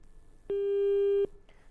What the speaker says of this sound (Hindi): चलिए, लगता फ़ोन कट गया है।